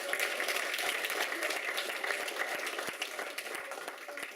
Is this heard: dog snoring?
no